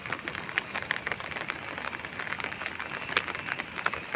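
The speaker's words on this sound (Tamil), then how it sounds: "இங்கே பாருங்கள், இன்னும் மழை நிற்கலை." Rain keeps falling outside a house, a steady hiss of drops on surfaces with occasional sharper taps, moderately quiet and continuous with no speech.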